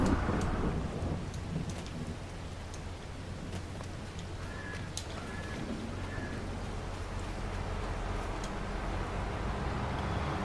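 Rain and thunder in Farming Simulator 22 on the Ohio Richlands map: a steady, dense downpour hisses throughout beneath low rumbling thunder, with a faint bird call briefly audible midway.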